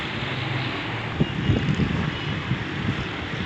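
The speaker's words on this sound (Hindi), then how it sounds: "बहुत तेज़ हवाएं चल रही हैं" Strong wind and a dust storm in Karachi roar as continuous broadband gusts buffeting the microphone, with faint low rumbles underneath.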